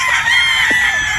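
Battle stag roosters crow loudly and close, a drawn-out cock-a-doodle-doo with other fowl clucking and calling around it in a farmyard setting.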